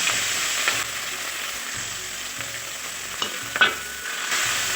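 Turmeric-rubbed fish pieces fry in hot oil in a pan for a Bengali fish curry, giving a steady loud sizzle and hiss with a couple of brief utensil clinks near the end.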